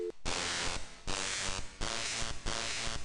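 In the Thimbleweed Park video game, a phone gets zapped with a harsh electrical crackle that buzzes in four loud bursts separated by short gaps, with no voices.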